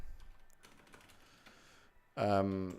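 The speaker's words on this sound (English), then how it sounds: "Excuse my typing." Computer keyboard typing runs through the first two seconds as a light clatter of soft keystrokes, picked up by a microphone held very close; a voice then begins speaking over the end of the stretch.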